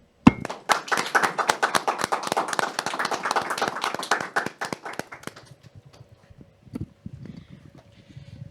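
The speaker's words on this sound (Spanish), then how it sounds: "el presbítero Rafael Luna, al cual recibimos con un fuerte aplauso" Small-group clapping welcomes an invited priest as special guest at an evening faith gathering, dense and steady for about five seconds, then thinning into scattered claps and faint murmuring.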